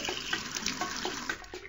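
Water splashes and pours into a pony's watering trough in a Dora children's video game, a steady continuous stream with small splashing bursts and no talking.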